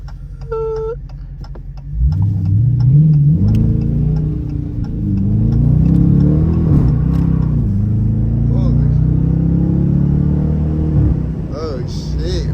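A Dodge Challenger R/T at night launches from a red light, its engine rumbling loud and steady while it slides sideways, with people talking over the drone.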